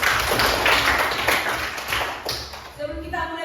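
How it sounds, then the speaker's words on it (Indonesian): A school class claps together in a classroom, a loud burst of rapid, rhythmic hand claps from many children, fading near the end as voices start up. "Tepuk tangan dulu."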